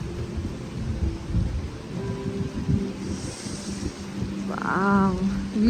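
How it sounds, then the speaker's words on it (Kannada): Heavy rain pours steadily at a resort in Wayanad while thunder rumbles low and long in the distance, a dense continuous wash of sound with a faint voice briefly heard near the end. "ಓ ಮಳೆ ಫುಲ್ಲು"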